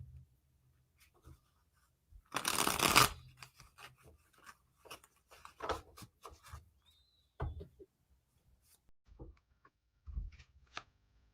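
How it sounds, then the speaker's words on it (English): Tarot cards shuffled and laid out on a table in a quiet room: a short burst of riffling, then scattered soft slaps, slides and taps of cards being set down one by one. "I'm laying out a couple of cards for each of the older kids"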